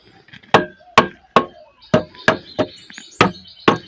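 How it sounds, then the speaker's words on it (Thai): A wooden stick taps the lid of a metal drum charcoal kiln, a smokeless kiln being sealed, with about nine sharp, close knocks in an uneven rhythm, each ringing briefly before the next. "ไม้เคาะเบาๆนะครับ เคาะ เคาะเพื่อให้มันเข่าลงนะครับ"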